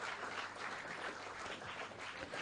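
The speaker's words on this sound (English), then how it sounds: "Huge round of applause, everyone." Audience at an inaugural award function applauding, a dense, steady wash of many hands clapping at once, heard from within the crowd without a break.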